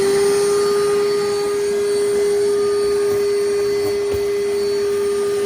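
A shop vacuum runs steadily and loud inside a bass boat, its constant whine holding at one pitch as it sucks up a loose piece of cut wire from the floor.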